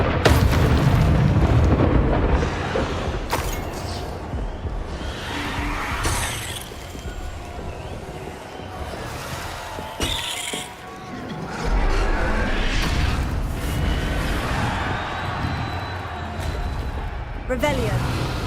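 Incendio fire spell cast in Hogwarts Legacy, heard as repeated fiery whooshes and booming bursts over continuous battle noise, with people talking throughout.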